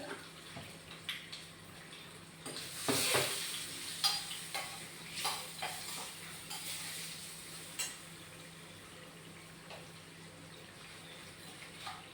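Chili and curry leaves drop into hot oil and sizzle softly for a sambar, with scattered stirring clinks and a louder burst of spluttering early on.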